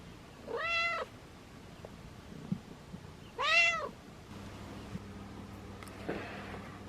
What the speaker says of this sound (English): Our cat Maria smelled the smoked trout and she came begging, almost knocking on the door